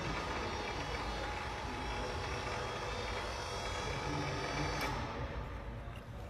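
An overhead hoist motor lowers a 3-ton-rated hook and pulley on a chain, giving a steady, loud mechanical whir that runs unbroken and thins out just before the end.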